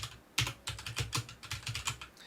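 Fast, close typing on a computer keyboard while entering an Excel formula, a run of crisp, evenly spaced key clicks with one heavier keystroke, alone and fairly loud.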